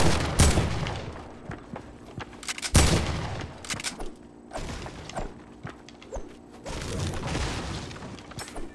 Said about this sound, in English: Overpowered dual pistols.